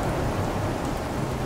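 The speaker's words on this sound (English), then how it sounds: "This is just an outright storm." Heavy rain and a thunderstorm in the video game Fallout 4 make a dense, steady, loud roar of downpour with low rumbling underneath. No voices are heard.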